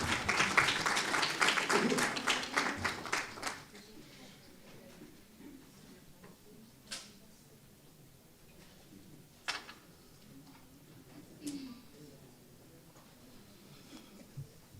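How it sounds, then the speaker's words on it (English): An audience at an economic development conference applauds a speaker with brisk, fairly loud clapping that fades out after a few seconds, leaving quiet room tone with occasional knocks and shuffles. "Give him a round of applause, please."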